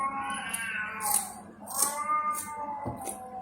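A cat meows several times in drawn-out, wavering cries, fairly soft and close, with faint background noise between calls.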